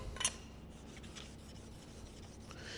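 Card scraper rubbed back and forth on a 1,000-grit diamond stone, a faint, even rasping scrape over a few seconds, close and alone.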